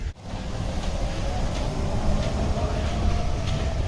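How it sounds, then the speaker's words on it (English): The Runaway Mine Train roller coaster at Alton Towers rumbles past in a loud, continuous roar of wheels and track noise, close by and sustained throughout. "There goes the runaway mine train."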